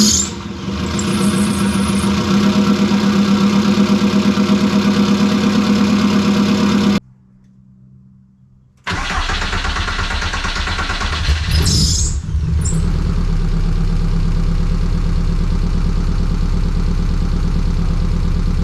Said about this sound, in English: Stoked with how the exhaust came out here.